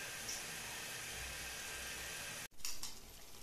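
Spices and tomato puree frying in oil for a soya chunks curry, giving a steady broadband sizzle that runs continuously, broken by a brief gap near the end before resuming slightly louder.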